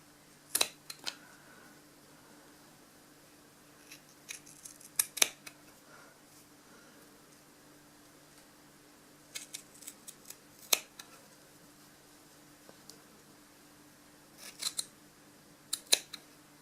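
Scissors snip knitted fabric of a traditional Norwegian sweater in a quiet room. Short crisp cuts come in small clusters with pauses between them.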